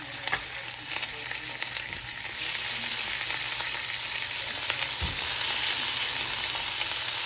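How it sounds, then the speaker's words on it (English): Lamb searing in hot oil in a cast iron skillet while cooking Korean sticky rib style lamb, giving a steady, loud, continuous sizzle and crackle throughout, with no talking. "my skillet is already hot, so I'm going to add some oil. And now just sear our lamb."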